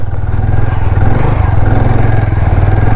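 A motorcycle rides along a mountain road through pine forest near Kalimpong, its engine droning loud and close with a steady, rough throb and no pause.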